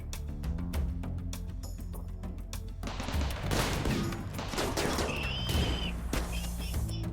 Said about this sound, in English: But we need just shots going down range.